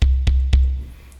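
A Yamaha EX5 synthesizer playing a sine wave tuned down an octave, three short, deep, evenly spaced pulses that each thump and fade, then a low decaying tail, close and clear with no voice.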